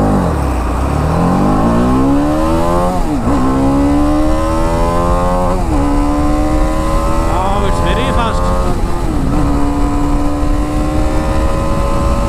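A 2021 TVS Apache RR310 BS6 motorcycle in track mode revs hard through several gears, its engine note climbing then dropping at each shift before rising again, loud and close with wind rush throughout.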